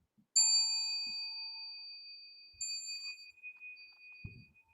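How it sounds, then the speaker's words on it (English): A bell rings out clearly twice, each strike leaving a long, shimmering ring that fades slowly in a quiet space, during a Zen Buddhist chant. "those two bells at the end are typically on the last sentence"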